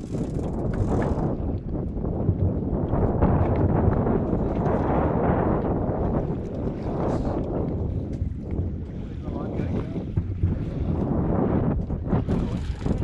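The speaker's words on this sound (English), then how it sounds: "Wind is picking up." Strong wind buffets a fishing boat out at sea during a yellowfin tuna catch, a loud, steady roar of gusts and water rushing continuously throughout.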